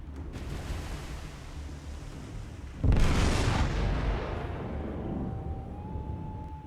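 A magazine explosion on an enemy warship in the naval game War on the Sea: a sudden heavy boom erupts after a low rumbling background, then a long roaring, crackling wash that slowly fades.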